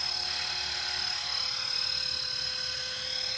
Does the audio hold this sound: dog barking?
no